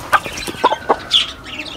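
Several short clucks from a chicken, close by, scattered over a couple of seconds against a faint background hum.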